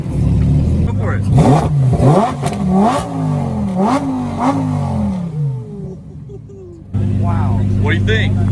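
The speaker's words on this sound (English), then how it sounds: "he's about to get in the Lamborghini. Go ahead and rev it up." A Lamborghini engine is revved hard several times, its pitch climbing and dropping in loud, close bursts before settling back to a steady idle, with voices and excited talk over it.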